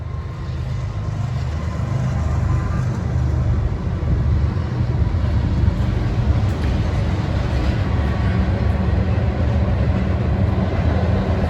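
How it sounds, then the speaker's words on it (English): A train rumbles past close to a campground in Williamsburg, Virginia, a loud, continuous low roar and rattle that holds steady throughout without fading, with no voices over it. "So here's a clip of the train coming through."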